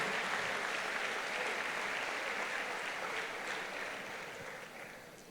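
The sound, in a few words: church congregation applause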